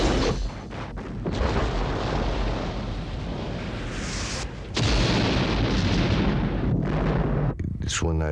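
Explosions blast through film footage, with a long, dense rumbling roar that breaks off briefly and then continues heavy and loud, with some talking.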